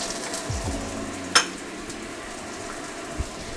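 Garlic, ginger and green onion whites fry in oil with a steady soft sizzle, one sharp clank of utensil against pan midway and a lighter knock near the end.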